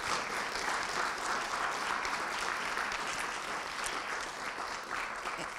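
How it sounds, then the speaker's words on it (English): An audience at a talk applauds the lawyers with a steady, full round of clapping from many hands that holds at an even level for several seconds, with no speech over it. "Round of applause for the lawyers."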